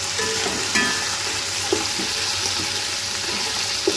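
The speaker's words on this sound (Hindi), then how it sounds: "अब हम इसमें डाल देंगे लहसुन अदरक का पेस्ट और सिर्फ कुछ सेकंड के लिए हलाएंगे" Onions fry in a pan with garlic-ginger paste and tomato added for chicken yakhni pulao, giving a steady close sizzle with a few brief stirring scrapes and clinks and no talking.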